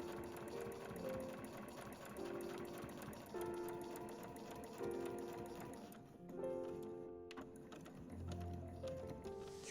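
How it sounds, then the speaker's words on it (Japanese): A home sewing machine stitches heavy canvas, opening with a backstitch: a continuous mechanical whirring hum that rises and falls in short bursts as stitching starts and stops, fairly quiet and with no talk. "1センチ先に針を下ろして返し縫いからスタートしていきます。"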